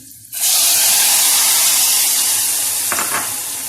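Boiled water poured into a pan of star-shaped vermicelli being cooked for a salad sets off a sudden loud, steady hissing sizzle that starts abruptly and holds, with a brief stirring clatter near the end.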